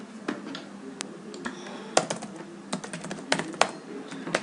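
A computer keyboard is being typed on to enter Cisco switch configuration commands. The keystrokes click in uneven bursts, close and clear, with a few louder key presses and no talking.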